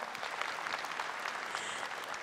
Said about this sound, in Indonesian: Tepuk tangan boleh hadirin sekalian.